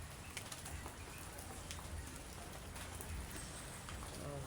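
Rain keeps dripping just after a downpour, a faint, steady patter of scattered drops with soft bird sounds in the background.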